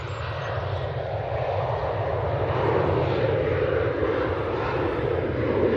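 An easyJet jet aircraft departing, a loud, close, continuous engine roar with deep rumble that builds slightly and holds steady throughout, no talk.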